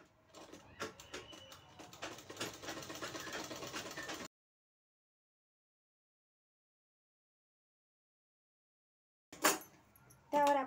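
A sewing machine stitches a fabric strip onto a sleeve with a quiet, rapid mechanical chatter for about four seconds. After a long silence come a sharp knock and a short final burst of running.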